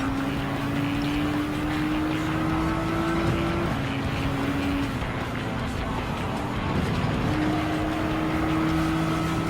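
In Gran Turismo 7, a Gr.4 race car laps the Dragon Trail Seaside circuit during a time trial. A loud, continuous engine whine rises through the gears and drops at each shift, under steady tyre and wind roar.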